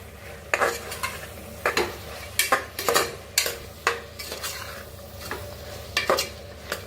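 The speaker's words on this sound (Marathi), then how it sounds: "बघा, छान असा मसाला भाजून घ्यायचा" Turmeric, chili and coriander powder masala being stirred and fried in a pan, with a spoon scraping in repeated sharp strokes over a steady low sizzle, close and fairly loud, no talking.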